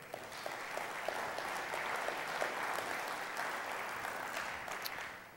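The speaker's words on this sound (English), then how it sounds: "let's go ahead and give them a round of applause for being here to start with." A steady round of applause for the panelists at an agriculture summit panel, sounding as a dense, fairly distant wash of clapping that holds for about five seconds before tapering off.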